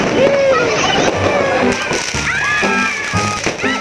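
New Year 2025 fireworks and firecrackers crackle and pop continuously at close range, dense and loud, with a few sharper bangs near the end and no speech.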